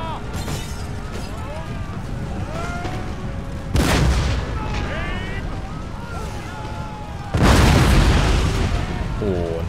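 Cannon fire in Empire: Total War, a naval battle with Great Britain, booming twice as broad heavy blasts over a constant battle din, with bird-like calls and wind noise throughout.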